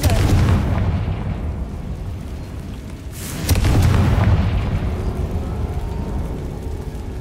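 Confringo fire spell explosions in the Hogwarts Legacy video game, with two loud, close booming blasts, the second at about mid-clip, each followed by a rumbling roar.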